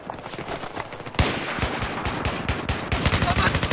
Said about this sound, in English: Oh, sniper somewhere!